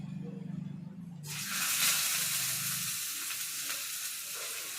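Sliced onions drop into hot oil in a pan for fenugreek kuzhambu, bursting into a loud, steady broadband sizzle that holds to the end, with a low hum of voice or room noise beforehand.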